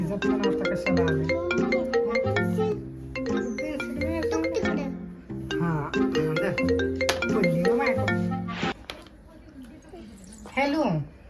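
A phone ringtone plays a melodic, repeating tune for most of the time, loud and close. A brief gap breaks it partway through, and it cuts off near the end, followed by a short burst of speech.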